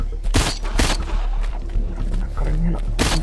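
Loud, sharp bursts of gunfire in a zombie shooting video game cluster at the start and end, with a rumbling game soundtrack and a voice talking over it.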